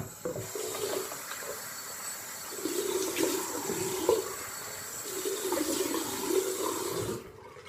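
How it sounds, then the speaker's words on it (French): Cold water splashing and running steadily from a tap while rinsing the face after a straight-razor shave with a Kamisori, a continuous nearby wash with small bursts of splashing, no talk. "Un coup d'eau froide."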